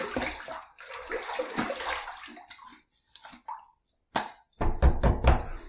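Water splashes and a hot towel is pressed on a face during a wet shave, close sloshing bursts with pauses and a few louder wet slaps at the end.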